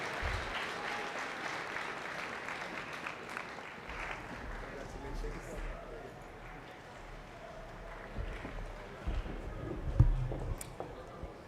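A commencement crowd applauds the graduates, a dense roar of many clapping hands that stays steady and then swells louder near the end, with voices mixed into the noise.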